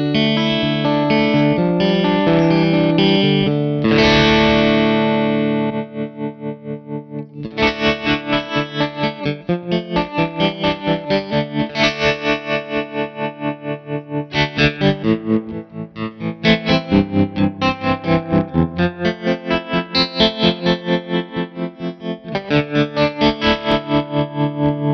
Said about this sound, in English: I'm going to start off with the volume so you can hear how that sounds ramping on its own